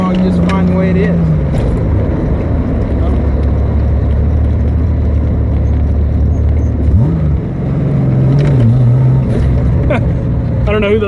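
A 1973 Datsun 240Z drives along with a steady, loud engine drone and road rumble from inside the car, the engine note rising and shifting briefly near the end.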